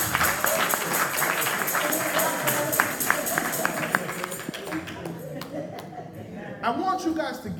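A church congregation claps during a sermon, a thin run of scattered claps and taps heard through a loud, steady room wash, with a voice speaking over them.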